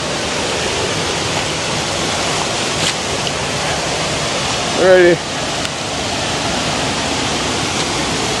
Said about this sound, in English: River come right down.